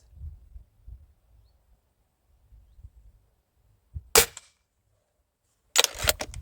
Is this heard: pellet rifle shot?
yes